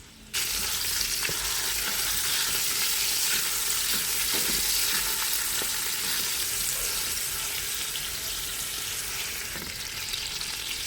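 Beef steak sizzles in margarine in a pan for a Balinese-style Dutch steak, a steady, loud, close frying hiss with faint scraping and crackles throughout, no speech.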